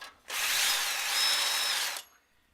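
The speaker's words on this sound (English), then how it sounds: "Second test I'm going to perform on the hot water tank is to drill a hole." A power drill bores a hole into a hot water tank in one steady, close, high-pitched whirring burst lasting under two seconds, starting and stopping abruptly.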